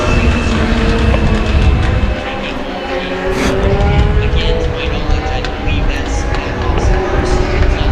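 US Legend Cars race at New Hampshire Motor Speedway, a dense roar of engines building and rushing past near the final corner, with a commentator talking over the track noise.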